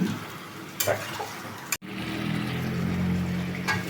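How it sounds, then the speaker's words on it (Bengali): Chicken stirred and sautéed in a pan, cooked with yogurt: a soft, steady sizzle with a few scraping stirs and a sharp clink partway through, fairly quiet and with no talking. "কিছুক্ষণ এবার নেড়ে চেড়ে ভালো করে একটু কষিয়ে নেব"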